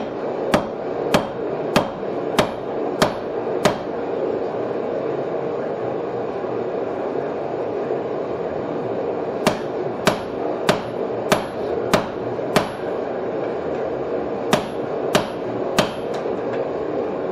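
Hammer blows on a hot piece of steel rebar over a hardy cut-off tool at the anvil, sharp ringing strikes in two quick bursts of about six, then a pause, then two more runs, loud and close with no talk.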